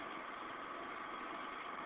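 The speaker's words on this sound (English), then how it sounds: "The generator is sitting there idling quietly in economy mode with the cover off" A Yamaha 3000-watt generator with its cover off idles in economy mode, a steady, even engine drone. The hum is quiet and continuous with no talking.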